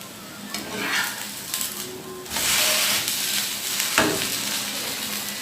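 A thin bread paratha sizzling as it fries in a pan, a steady crackling hiss that swells and dips with occasional scraping and stirring sounds, close and continuous without talk.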